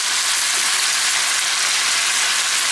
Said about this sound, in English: That's a nice sizzle that you want to hear.